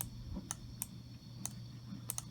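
A computer mouse gives several crisp, faint clicks spaced irregularly over about two seconds, set against a low steady hum in a quiet room.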